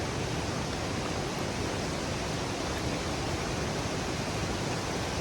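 Barki waterfall near Kolhapur roars as a dense, unbroken wash of rushing water, loud and steady throughout with no voices over it.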